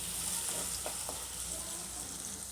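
Shallots and garlic sautéing in a pan for a Tamil anchovy fish curry, giving a steady soft sizzle with a few brief stirring scrapes, fairly quiet and close, with no talking.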